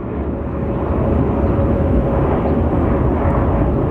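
An airplane landing at Phoenix Sky Harbor gives off a loud, sustained jet roar that builds slightly and holds steady throughout. It sounds fairly close, and no one speaks over it.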